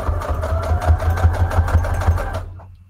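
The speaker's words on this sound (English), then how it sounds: "Let me get it up on the sewing machine." A sewing machine runs steadily for about two and a half seconds with a rapid rhythmic stitching beat and a mechanical hum, close and loud, then stops abruptly.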